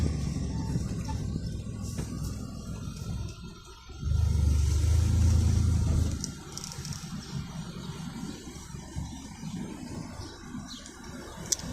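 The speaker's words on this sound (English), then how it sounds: "Well, I got a car coming up behind me." A car comes up from behind and passes on the road, its engine and tire rumble swelling loud for a couple of seconds and then fading under a steady hum of road and background noise.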